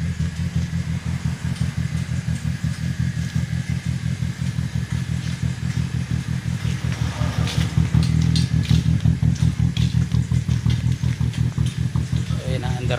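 A cold Honda motorcycle engine with a hard-starting fault idling after a cold start with a steady rapid putter, close by, swelling slightly louder partway through.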